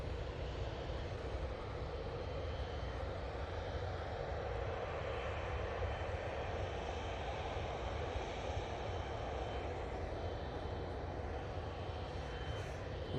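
Emirates jet engines hum at Manchester Airport as a steady, distant, low rumbling drone that holds at a constant level throughout, with no voices present.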